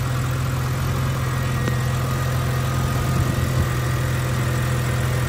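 Steady idle of a 2009 BMW 128i automatic six-cylinder engine, a continuous low hum with a constant drone throughout, close and fairly loud with no talking.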